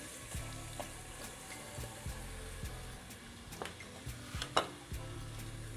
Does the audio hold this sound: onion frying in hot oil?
yes